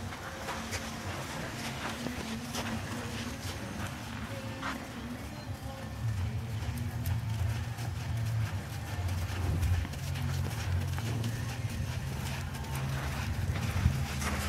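A horse's hooves drum through a lope transition during western pleasure training for the show pen, a steady rhythmic clip-clop under rumbling low noise, fairly close and moderately loud throughout.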